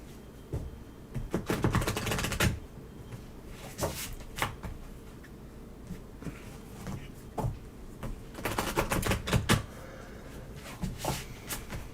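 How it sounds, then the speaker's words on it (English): A deck of tarot cards is shuffled and cut close by, in several quick papery riffle bursts with softer handling noises and pauses between them, and no voices. "I will let you shuffle and cut the cards."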